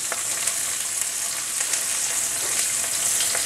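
Onion sizzles and crackles in hot oil with cumin seed, a dense close frying hiss with small pops and faint stirring, no voices.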